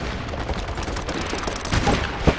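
Dense, continuous gunfire from the online shooter MAG in a Sabotage match rattles loudly and steadily throughout, with sharper cracks near the end.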